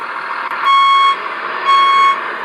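The reversing beeper from an RC4WD DXR2 1/14-scale hydraulic bulldozer sound unit gives two loud, evenly spaced electronic tones over a constant background hum.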